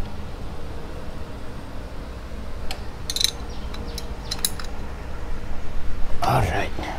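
Screws are fitted on a 125Z motorcycle engine block: sharp metallic clicks and short ratcheting bursts come in scattered clusters midway and near the end, over a constant loud hiss with faint mumbled voices.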